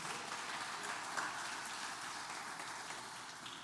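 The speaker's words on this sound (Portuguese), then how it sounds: "Você pode aplaudir a Ele por isso?" A church congregation applauds during a worship service: soft, even clapping that sounds like rain. It is heard from a distance and holds at a constant level.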